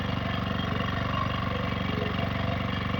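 A gasoline generator engine running at a steady, rhythmic chug, close and moderately loud, with no voices over it.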